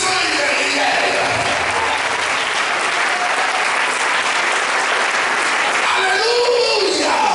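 A church congregation applauds and cheers in praise during a worship service, a dense, steady wash of clapping and voices lasting throughout, loud and close, swelling slightly near the end.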